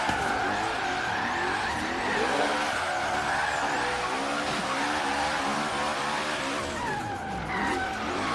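Tires squeal continuously as an all-wheel-drive car drifts at sustained angle in Forza Horizon 3, the engine droning loud and steady throughout with shifting pitch as the slide is held.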